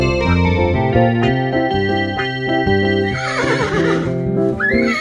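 Horse neighing within a Tamil children's animal sound song, a bright whinny rising near the end over a steady musical accompaniment with plucked and sustained notes.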